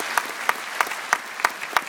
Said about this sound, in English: why not give them a round of applause as well